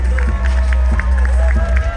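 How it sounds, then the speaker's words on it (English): Clapping and crowd noise rise at a large Los Angeles growth conference, sitting under loud booming DJ music with a heavy bass beat, the hands blending into the general roar. "Keep on clapping for a minute."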